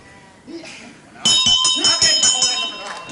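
A ring bell at a World of Sport wrestling match clangs in a rapid series of bright metallic strikes, loud and ringing, with a commentator talking beneath it.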